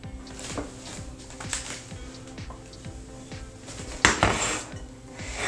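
Chunks of watermelon set into a bowl for a homemade watermelon whip drink, with soft clinks and knocks of dishes and utensils over a low steady hum, and a sharper clatter near the end.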